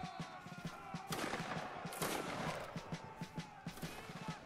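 A musket volley in a Roblox Waterloo battle: a broad crackling roar of many muskets firing together near the middle, amid a busy wash of game noise and rhythmic marching thumps.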